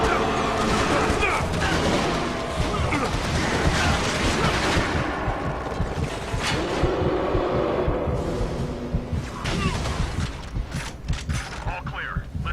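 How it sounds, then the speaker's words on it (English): Scattered gunfire and heavy booming impacts in the Resistance 2 shooter game, moderately loud volleys mixed with game voices talking over the battle. "I'm hearing gunfire from your direction."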